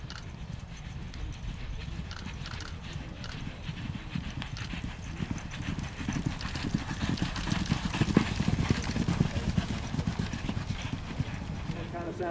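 Colts trotting during exercise make a dense, continuous clip-clop of hooves that grows a little louder partway through, with someone talking over it.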